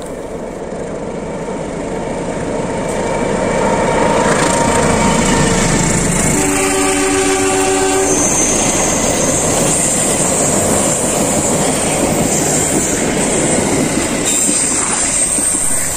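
A freight train pulled by two CC201 diesel locomotives rumbles past at steady volume, a brief multi-tone horn sounding partway through over the continuous roar of wheels and engines.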